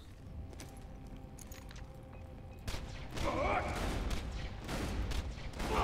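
Bursts of gunfire from Borderlands 2 crackle in several loud blasts over the game's background noise, growing denser toward the end.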